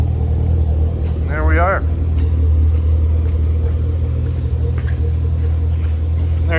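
A 2013 Chevrolet Camaro ZL1 with a 580 hp V8 and valved exhaust idles with a loud, steady low chugging rumble, close up, while someone talks over it.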